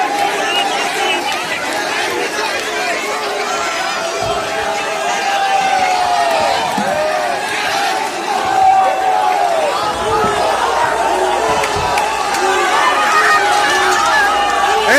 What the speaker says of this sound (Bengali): এই মুহূর্তে দেশের মানুষের উল্লাস দেখা যাচ্ছে